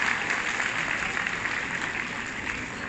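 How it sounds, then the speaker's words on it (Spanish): Steady, dense applause from an audience honoring a man at a conference ceremony, a continuous broadband patter that holds at an even level for the whole stretch without pause or voices. "Fuerte el aplauso para mi amigo."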